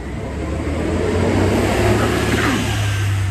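A passing bus roars by up close, a steady loud engine drone and road rush that swells and holds for a few seconds with no one talking.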